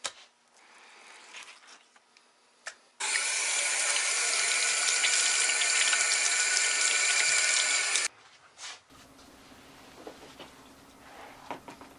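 Water runs steadily and loudly from a basement utility shower for about five seconds, starting and stopping abruptly, with quieter handling noises before and after.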